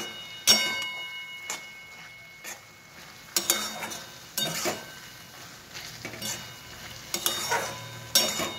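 Bottle gourd and spice paste are stirred in a pan on a raised flame, a spoon scraping and knocking in irregular strokes over a faint background sizzle.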